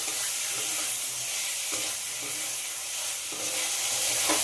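Boneless chicken sautéing in oil with tomato masala, a steady close sizzle with scraping stirs and spatula clatter on the pan, no talk.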